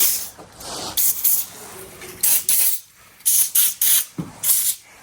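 Penetrating oil sprayed onto the rusty 13 mm mud flap bolts of a semi truck, in a series of sharp, close hissing bursts separated by brief pauses.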